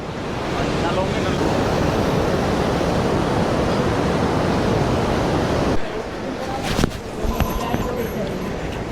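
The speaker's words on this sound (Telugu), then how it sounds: "చూడండి వాటర్ ఫాల్స్ చాలా బాగుంది." A monsoon waterfall on the Kedarnath trek in the Himalayas roars as steady, close rushing water, then cuts abruptly to quieter outdoor sound with scattered knocks and handling noises.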